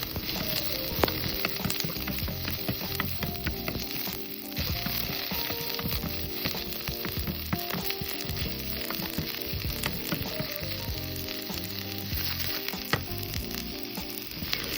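Chopped onions frying in oil in a kadai, a steady, dense sizzle that holds evenly throughout with a faint electrical hum underneath and no voices.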